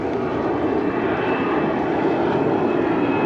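A propeller or jet airliner passes overhead above a beach beside the Palma de Mallorca airport, a loud, steady engine roar that fills the whole stretch without letting up.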